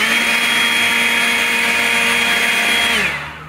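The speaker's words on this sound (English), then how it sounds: "And then I take my handy dandy battery leaf blower" Battery leaf blower aimed at a radio chassis to clear dust, a loud, steady, high-pitched whine from close by that spins down and fades near the end, with no talking.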